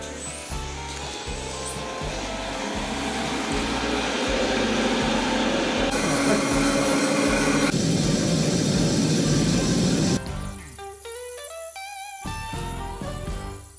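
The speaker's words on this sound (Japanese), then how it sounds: "切断に使用する機械は刃物にダイヤモンドがコーティングされている船装のダイヤカットマシーン。" A diamond-coated cutting machine slicing through a cooler box, giving a loud steady whining drone that shifts in pitch as the blade works, then cuts off abruptly near the end.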